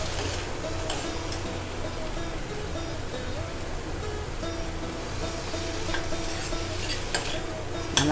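Beans curry with added salt being stirred in a pan, a dense continuous sizzle with scattered clicks and scrapes of a spoon against the metal throughout.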